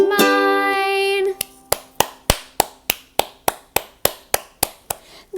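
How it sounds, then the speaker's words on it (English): A sung note gives way to a single person clapping hands in a steady, even rhythm, about a dozen crisp, close claps, during a children's story-time song. "Clap your hands like mine."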